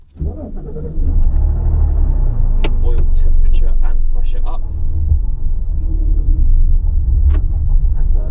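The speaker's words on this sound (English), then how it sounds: "let's just give it a quick start up" A 2003 Porsche 911 GT3 (996.2) 3.6 engine cranks and fires, settling into a deep, loud rumbling idle with a brief rev, while someone speaks over it.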